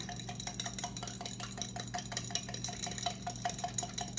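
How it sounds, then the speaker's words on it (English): A whisk beats a mustard and salt dressing in a bowl for a potato salad, making quick, steady metallic ticks and scrapes in a fast, even rhythm. The sound is close but quiet, and no one speaks. "I'm going to whisk this up"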